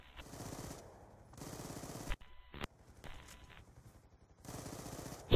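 Sentry gun firing in Black Ops 2 Extinction bots mode, several faint bursts of rapid automatic gunfire heard at a distance, broken by short gaps and brief clicks.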